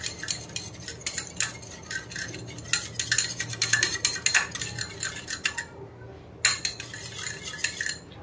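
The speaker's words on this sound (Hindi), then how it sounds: "इसको आपको अच्छे से मिक्स कर लेना है।" Maida batter whisked in a bowl, rapid rhythmic clinks and scrapes of the utensil against the bowl with a brief pause before resuming, close and alone.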